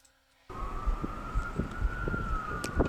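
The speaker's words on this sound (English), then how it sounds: "Police sirens." A police siren wails in a long rising and falling tone over steady traffic rumble in Boston, fairly close, starting abruptly after a brief quiet moment.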